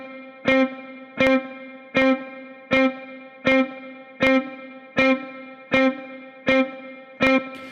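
Played-back guitar exercise through heavy distortion and chorus effects: ten evenly spaced picked notes or chords with sharp attacks and short ringing decays, steady rhythm, loud and alone.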